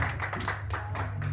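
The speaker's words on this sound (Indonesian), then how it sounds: "Tepuk tangan buat Ibu Etna dulu." A small gathering claps for Ibu Etna, with quick hand claps repeating close by over a steady low hum.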